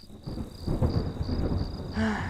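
Thunder rumbles low and steady before rain in the video game Home, a moderate rolling grumble lasting a couple of seconds beneath a faint high ambient tone, ending with a brief tonal game sound.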